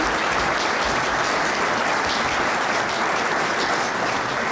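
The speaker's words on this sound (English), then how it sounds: "Let's give Gary Dilly a great big round of applause." An audience applauds at the 2015 College of San Mateo Hall of Fame ceremony, with dense, loud, steady clapping from a crowd in a hall that fills the whole stretch without letting up.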